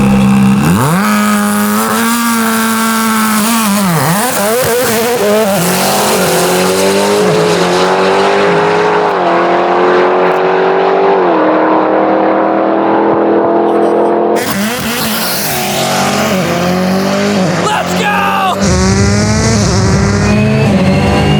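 A 1,080hp Jeep and a Subaru gymkhana car drag race side by side, engines screaming loudly through rising gear-change sweeps and repeated shifts, with tire noise and a brief pause before another burst of revving.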